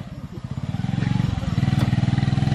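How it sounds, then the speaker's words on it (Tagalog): Many motorcycles passing close by, a dense stream of engine drone with pulsing, rising revs and clatter, loud and continuous, with voices talking over it. "Daming motor di oh."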